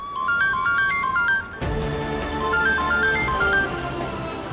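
A mobile phone ringtone plays a bright, beeping melody that repeats twice, with a brief break between the two loops. It sounds clear and fairly close, with no talking over it.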